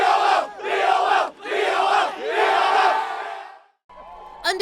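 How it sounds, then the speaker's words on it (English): A crowd of cheerleaders shouts a rhythmic victory chant, four loud, evenly spaced bursts of massed voices close by, then a brief silence and a short final shout. "These champs are going to send it back to you with a victory cheer."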